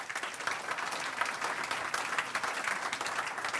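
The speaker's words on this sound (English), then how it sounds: "Warm round of applause, please," An audience at a European energy-grid conference claps warmly, a dense, even wash of many hands that holds steady throughout with no voices above it.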